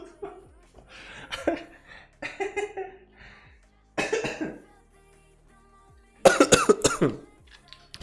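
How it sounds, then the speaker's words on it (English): A person coughs in several harsh, clustered bursts separated by short pauses, close and loud, the final fit the strongest, with no speech between them. "I don't know why I have terrible cough"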